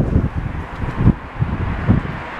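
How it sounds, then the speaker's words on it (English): Wind buffeting a microphone outdoors in Blackpool while walking uphill, a loud rumbling low roar with gusty swells about every half second. "There is a bit of a wind."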